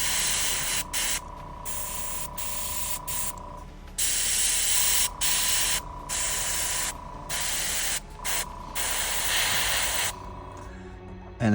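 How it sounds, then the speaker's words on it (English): An airbrush hisses in repeated bursts of varying length while spraying a snow coat onto large miniature bases, with short pauses between passes and a faint steady tone underneath. "I'm going to get my airbrush again and give it another coat"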